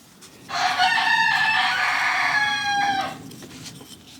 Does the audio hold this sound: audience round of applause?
no